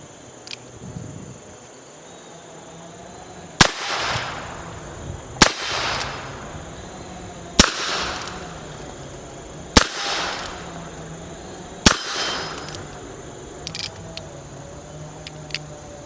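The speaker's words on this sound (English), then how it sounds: "Let's try some one-handed shooting." Five sharp shots from a Heritage Rough Rider .22 revolver, fired one-handed outdoors at even intervals of about two seconds. Each crack rings out over a steady background of insect chirping.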